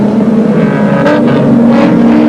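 Jaguar XJS and BMW 323 touring cars racing closely for fifth place at a 1985 Amaroo Park Amscar round, a loud continuous engine roar with rising revs and a passing surge near the middle.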